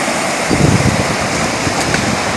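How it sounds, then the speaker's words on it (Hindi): Fast-flowing river water rushes in a steady broadband roar, loud and close, with a brief rougher surge early on and no talk over it. "इसमें देखिए भाई साहब पानी का रेता कितना तेज़ी से भाई साहब देखिए पानी जा रहा है।"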